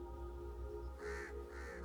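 Crows cawing as a horror-story sound effect: a few harsh, rhythmic caws in quick succession over a low droning backdrop.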